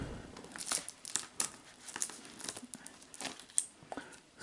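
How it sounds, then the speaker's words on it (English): Plastic packaging on a Beta videotape crinkles and rustles close by, with sharp irregular scissor snips and tearing sounds scattered through. "Maybe I'll get my scissors."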